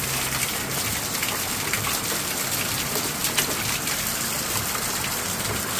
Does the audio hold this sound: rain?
yes